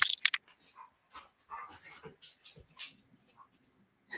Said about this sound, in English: I have a barking dog here.